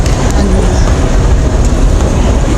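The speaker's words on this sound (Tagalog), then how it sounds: "nasa MRT na ako, nasa loob" Inside a moving Singapore MRT train, a loud continuous rumble of wheels and carriage fills the space, with faint rhythmic clicks from the rails and no clear voices.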